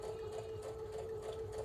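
A sewing machine stitches quilt pieces in a snowball or flip-and-stitch pattern, producing a steady whirring hum with a fast, even mechanical pulse, close and moderately quiet, with no voices.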